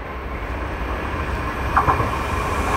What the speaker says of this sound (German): hier kommt ein IC rein